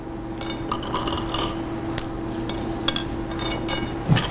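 Candied pecans being broken up by hand for a beet and arugula salad, a few light clinks and crunchy snaps over steady kitchen background hum, close and fairly quiet.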